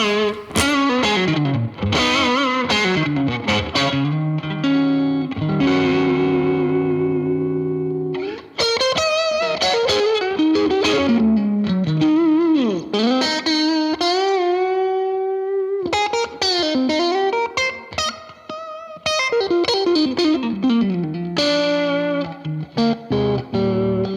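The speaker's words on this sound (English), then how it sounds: "A little heavy on the reverb there." An electric guitar through a Fender-style amp with heavy reverb plays loud, sustained notes and chords whose long washy tails ring out between phrases, with no talking.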